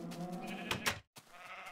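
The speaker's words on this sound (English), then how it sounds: "Oh, hello brown sheep." A brown sheep in Minecraft gives a short, quiet bleat that breaks off into a brief silence before the soft background returns.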